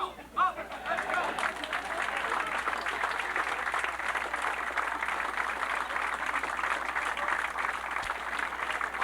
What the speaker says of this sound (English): I think we need to give everybody else in this room a round of applause